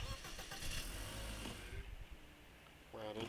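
A car engine starts up and idles in a video game, a short cranking burst then a steady mid-pitched rumble, brief and fairly quiet, with a voice briefly audible near the end.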